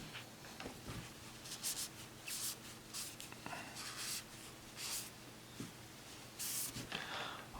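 Oil pump parts from a BMW S52/M52 engine being wiped down with brake cleaner: soft, intermittent rubbing and scuffing strokes of a rag with short hissy bursts, close and fairly quiet, no talking.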